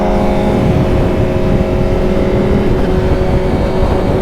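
A 200 HP Honda CBR 1000RR-R Fireblade SP with a flashed ECU cruises at around 90 mph in third gear, its engine a loud, steady close-up drone mixed with rushing wind.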